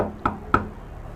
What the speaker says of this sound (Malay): Tiba-tiba terdengar orang mengetuk.